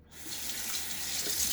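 Tap water runs steadily into a sink during a wet shave with a Wolfman razor and Gillette Silver Blue blade, a continuous close hiss with no talking.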